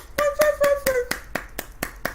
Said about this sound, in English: I got to give Knowledge a clap